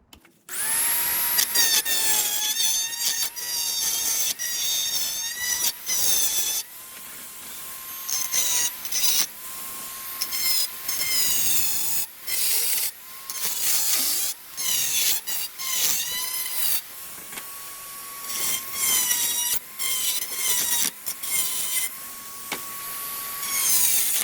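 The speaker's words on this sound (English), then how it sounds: "see how that die grinder performs, and we're going to grind off those welds" A die grinder grinds off welds on a John Deere suspension seat, a loud high-pitched whine that runs in long bursts with short pauses, pitch dipping as it bites into the metal, close up.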